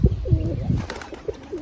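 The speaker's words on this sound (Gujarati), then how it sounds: "એ આપણે એક કબૂતર તો પીવા આવી ગયું" A pigeon perched by a water basin gives a short run of close, soft, throaty coos, loud and alone.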